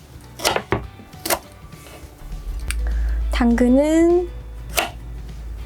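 A knife chops broccoli and carrots on a cutting board in a few sharp separate strikes, close by. Someone talks in Korean between the cuts, and a brief whistle-like tone rises and falls.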